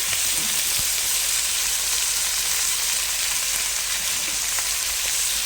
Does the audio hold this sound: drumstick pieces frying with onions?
yes